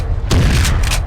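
A SPAS-12 shotgun fires once in the 1998 video game Trespasser, a single loud, close boom with a short decaying tail.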